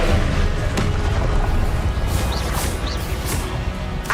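Loud, dense barrage of magical explosion blasts from the Confringo spell in the video game Hogwarts Legacy, rumbling booms and crashes continuing without pause, with faint whooshing spell effects layered on top.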